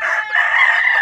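A rooster crows once, loud and close, in a single sustained strained call lasting about a second.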